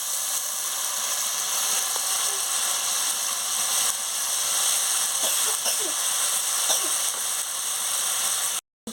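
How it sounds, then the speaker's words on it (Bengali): Mustard seeds drop into hot oil in a home kitchen pan for an okra dish, making a steady, loud sizzling hiss throughout with a few faint pops, then a sudden cut at the very end. "এবারে আমি সরষেটা দিয়ে দিচ্ছি।"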